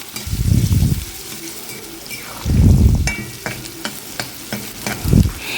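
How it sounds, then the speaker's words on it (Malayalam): Koorka (Chinese potato) stir-fry for mezhukkupuratti being stirred in a pan after salt is added, with three thick scraping bursts of spoon against pan over a steady background sizzle and scattered clicks, close and fairly loud. "കുറച്ച് നേരം ഇളക്കാം"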